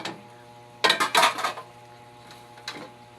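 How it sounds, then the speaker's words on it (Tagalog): Plates and cooking pots clattering in a kitchen, a short burst of close clanks and scrapes followed by a single lighter knock, no voices. "Tingog sa plato, kaldero."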